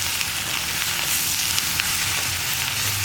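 Sliced onions (savala) frying and being stirred in a pan for a Kerala stir-fry, giving a steady, close, continuous sizzle with faint scraping, no voices.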